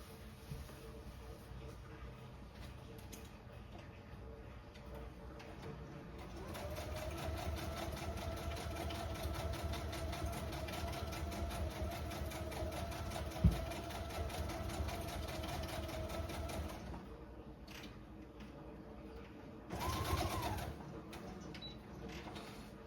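A sewing machine stitches a line through pockets for 1980s journals, a steady rapid mechanical whirr that runs for several seconds at close range, with a quieter motor hum before and after and a brief voice near the end.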